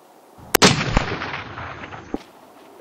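An AR-15 rifle fires and a round strikes a steel plate target at an outdoor range: one sharp loud report, a second close crack, then a long decaying ring, with a faint impact tap near the end.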